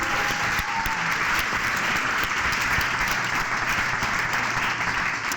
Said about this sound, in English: So really, round of applause to all of you